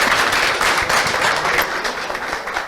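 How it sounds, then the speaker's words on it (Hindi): An audience applauds at a live talk, with dense, steady clapping throughout at moderate loudness. "तो सबसे बड़ा ताली बनता है इनके लिए या नहीं?"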